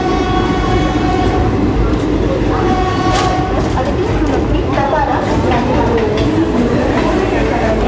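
Garib Rath Express train pulling into Kalyan Junction: loud continuous rumble of rolling coaches with metallic squeals and clatter, close by, with talk and station noise mixed in.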